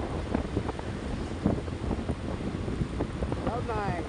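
Motorcycle ride along a highway road, with steady buffeting wind noise dominating throughout and a person speaking over it.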